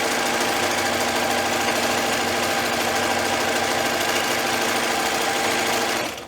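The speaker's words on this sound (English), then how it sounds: "I'm just chain stitching, so I haven't even stopped or taken my thread off." A sewing machine chain stitches pajama pants in one continuous loud, rapid mechanical whir that stops abruptly at the end.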